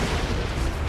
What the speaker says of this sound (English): I can't believe I survived that blast.